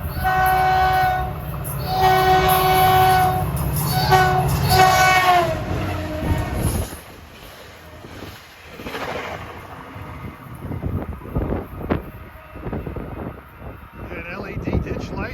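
A Caltrain F40 locomotive-hauled commuter train passes close and loud, its horn blaring in sustained tones for the first several seconds before the rumble and clatter of the cars fade into quieter rolling noise.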